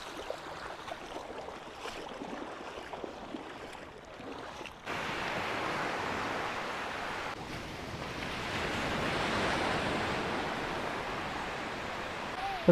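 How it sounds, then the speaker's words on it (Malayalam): Ocean surf rolls onto a Goa beach near a small river mouth, a continuous wash of breaking waves with a wind-blown hiss that grows louder and fuller after a few seconds and keeps on without speech. "തിരമാലകളുടെ സ്പീഡ് കൂടി കേട്ടോ."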